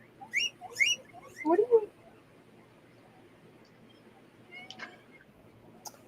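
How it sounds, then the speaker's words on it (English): A pet cat meows a few times in quick succession near the start, short high calls close by, followed by a quieter stretch with faint background noise and a couple of small later sounds. "Did you hear that meow?"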